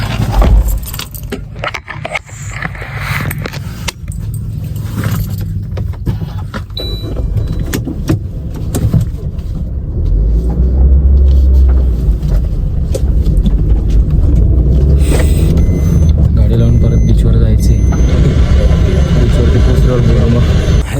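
A car being parked on a road trip along the Konkan coast: the engine rumbles low and swells midway, keys jangle, and people talk intermittently throughout.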